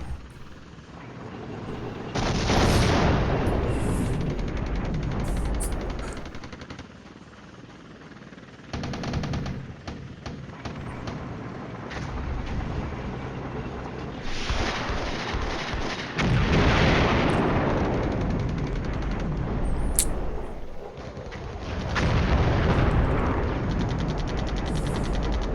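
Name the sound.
artillery fire in video game Flashpoint Campaigns Cold War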